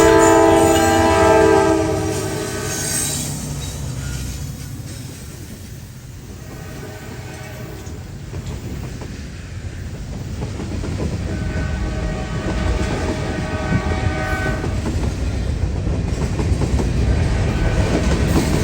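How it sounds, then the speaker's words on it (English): Freight trains roll through Austell near Atlanta, a deep continuous rumble with wagon clatter, while a loud horn sounds in sustained blasts at the start and again later as the trains pass close by. "the roar of approaching trains"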